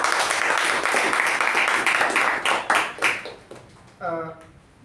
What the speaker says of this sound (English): Can we have a round of applause for Toastmaster Rahul?